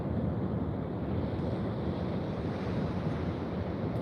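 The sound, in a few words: ocean waves crashing on the shore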